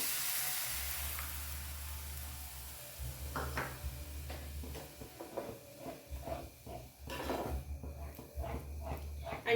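A bowl of milk goes into a ghee-roasted green pea halwa mixture in a hot pan, giving a soft hiss and sizzle with scattered clinks of utensils against a low steady hum.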